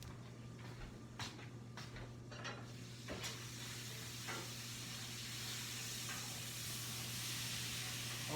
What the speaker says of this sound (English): I'm going to take a second and go stir up my bacon and sausage.